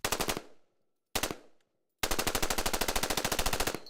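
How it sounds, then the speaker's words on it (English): An AR-15 rifle fitted with a bump stock fires rapid bursts: two short volleys, then a sustained, loud stream of evenly spaced shots running about two seconds, with no talking. "Next, the AR-15 with a bump stock."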